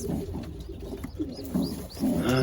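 Pigeons in a racing pigeon loft coo in low, soft throaty rolls, several close calls repeating over a quiet background with no talking.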